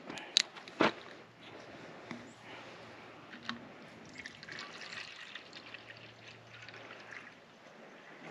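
Dogs lapping water outdoors at a campsite, a series of faint, close wet laps and small splashes with a couple of sharper knocks and a quiet background hum.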